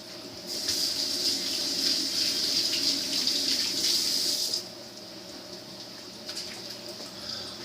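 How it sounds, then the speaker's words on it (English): Hands are washed under a running kitchen tap, a steady splashing gush of water that stops partway through, then resumes briefly. "Let me wash my hands up right quick."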